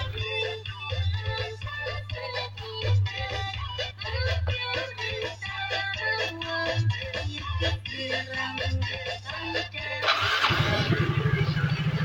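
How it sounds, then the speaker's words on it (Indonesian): A Yamaha Mio J / Soul GT scooter, hard-starting and sputtering, runs after a jump-start from a weak battery. It holds a steady low idle drone under continuous nearby talk, then swells into a louder, rougher burst near the end. "Oke, motor menyala."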